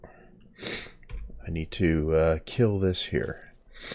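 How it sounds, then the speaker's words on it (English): A person sneezes in the background inside a building, one brief sharp burst early on, followed by someone talking over the rest. "there's also other people in the building that are sneezing and so on,"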